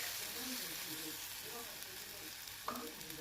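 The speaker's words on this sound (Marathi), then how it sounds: "आता हा जो टोमॅटो घातलेला आहे तो अगदी मऊसर शिजेपर्यंत आपल्याला परतून घ्यायचा आहे" Chopped tomato and onion sautéing in a pan for a sprouted moth bean curry, a steady low sizzle with soft stirring scrapes near the end, faint and continuous throughout.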